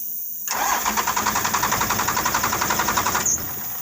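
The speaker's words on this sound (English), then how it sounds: "So I turn the pump on, and I'm going to hit the key, Winston." With the fuel pump switched on, a first-generation vehicle's starter cranks the engine in a steady rhythmic churn for about three seconds, close and clear, then cuts off without the engine catching.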